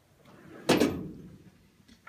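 Drawer on a Husky 52-inch, 18-drawer tool chest sliding and shutting: one loud metallic slide-and-clunk with a short rattle that fades, then a faint second touch near the end, no talking.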